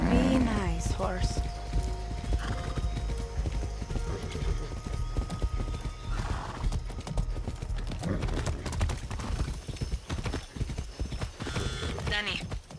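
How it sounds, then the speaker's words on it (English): Rhythmic clip-clop of horse hooves with a couple of whinnies in the PC video game Far Cry 6, steady and fairly close, mixed with game music and effects. "horse."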